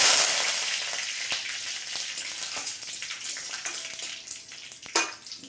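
Nigella seeds sizzling in hot oil with a chili, a bright hissing crackle that starts loud and settles into a steady fry, broken by sharp spitting pops, with no talking.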